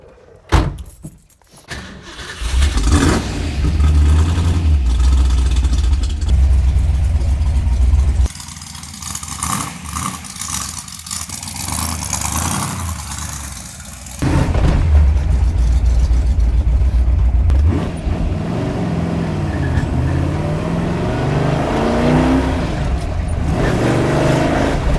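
A 1965 Shelby GT350 engine starts with a key jingle, then revs and pulls away, the motor rumbling loud and rising as it accelerates through gears.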